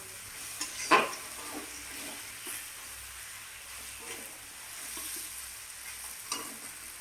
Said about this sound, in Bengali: এটাকে নাড়াচাড়া করতে হবে।